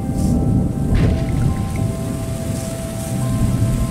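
Steady heavy rain pouring down in a video game, Terra Nil, with a low rumble underneath, continuous and fairly loud, with no voices.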